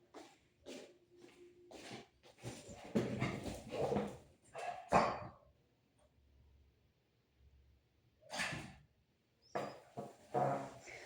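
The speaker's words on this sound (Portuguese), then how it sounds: "A amendoim começou a latir." A dog named Amendoim barks several times in scattered bursts, some quick and clustered and others alone after pauses, at moderate loudness indoors.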